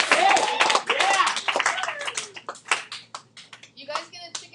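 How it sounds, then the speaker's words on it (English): A classroom group claps in a brief round of applause, dense at first then thinning to scattered claps, with voices talking over it. "Everybody give Marcy a round of applause."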